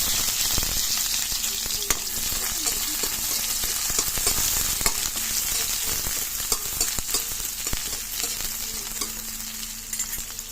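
Onions sizzle and fry steadily in a hot pan while being stirred for a mussel and moringa sauté, with garlic already cooking. The crackling is loud and continuous, with scattered spatula scrapes and no voices.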